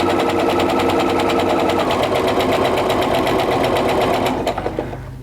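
A sewing machine stitches fabric right up to a line of pins, a steady fast close mechanical chatter that winds down and halts in the last second.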